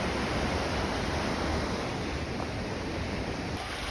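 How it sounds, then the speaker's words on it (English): Rushing creek water and a waterfall at Brice Creek, a loud, steady broadband roar close by with no pauses and no voices. "Oh, rushing water right there."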